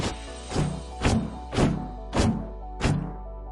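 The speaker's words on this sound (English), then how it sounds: "Normally when you bunny hop up a ramp, you make a noise every single time you land." Landing thuds from bunny hopping up a ramp in the Valorant video game, six soft, evenly spaced thumps about half a second apart, moderately quiet with no talk.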